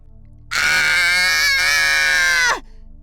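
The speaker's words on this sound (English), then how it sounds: "He screamed and immediately shot upward." A person gives one loud, sustained scream lasting about two seconds, strained and shrill, that cuts off abruptly, with no other sounds around it.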